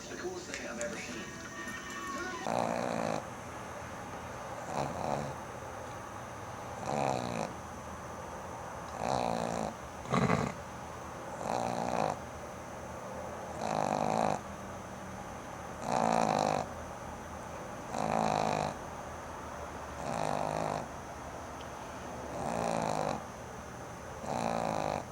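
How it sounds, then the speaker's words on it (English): A person snores in a steady rhythm, each rasping breath repeating every couple of seconds for a long stretch, close and fairly loud over a constant background hum. "She snores even when she's not sleeping."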